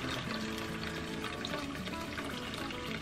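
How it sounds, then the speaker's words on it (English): Wash water from raw Finn sheep fleece is dumped out of a colander outdoors, a steady, full splashing pour that runs continuously for a few seconds. "then I'll dump all this water"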